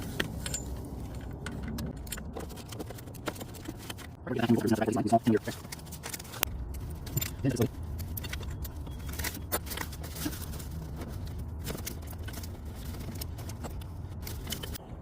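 Metallic clinks and ratcheting taps come from a wrench on a flexible extension loosening a thermostat bracket bolt on a Chevrolet Cobalt engine, close and intermittent, with someone talking throughout.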